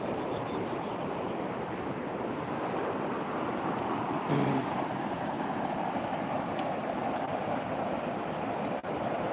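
Loud, steady roar of rushing water fills the whole clip, broad and continuous, a river in full flood after heavy rain.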